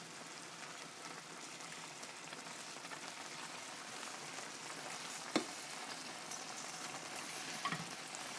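Rice is folded into a mixture in a frying pan, giving a steady, rain-like sizzle with a couple of brief scraping knocks from the stirring utensil, and no one speaking.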